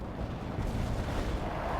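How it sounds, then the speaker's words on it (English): Rumbling artillery and airstrike explosions in the Cold War strategy game World in Conflict, a continuous heavy low boom rolling on without clear breaks. "Romanov, call in artillery and airstrikes on them."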